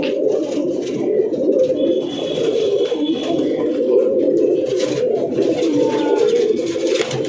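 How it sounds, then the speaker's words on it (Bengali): Pigeons coo in a loft, a steady dense murmur of overlapping low throaty calls running throughout, close and fairly loud. "পায়রাগুলো সব চঞ্চলে পায়রা।"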